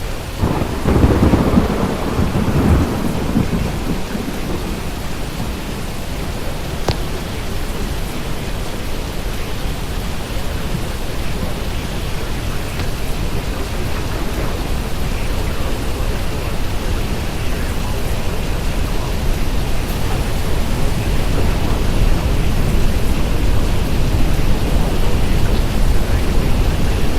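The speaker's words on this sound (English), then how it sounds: "National Weather Service Doppler radar indicated a severe thunderstorm capable of producing a tornado near Nateville." Severe thunderstorm with a tornado warning in effect: heavy rain pours steadily throughout, with rolling thunder rumbling loudly at the start and a sharp crack a few seconds in.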